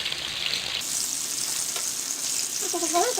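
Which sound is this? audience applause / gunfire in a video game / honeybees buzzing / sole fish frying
sole fish frying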